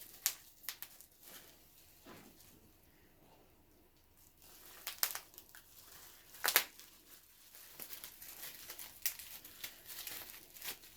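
Plastic wrapping being pulled and crinkled off parts of a Serta Smart Layers Jennings Super Task big and tall office chair, with scattered close crackles and tearing rustles, louder bursts near the middle and end, no talking.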